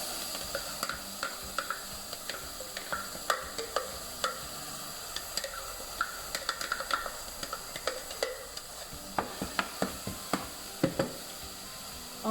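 A mixture of red pepper, onion and garlic cloves fries in a hot pan with a steady sizzle, broken by repeated sharp scrapes and clicks as a utensil stirs it, close and clear with no voices.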